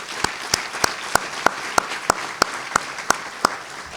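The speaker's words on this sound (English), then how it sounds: "Let's give Supervisor Bartlett another round of applause." Applause at a district State of the Fifth District event for Supervisor Bartlett, heard as about a dozen sharp, evenly spaced claps in a steady rhythm, fairly close and with no talk.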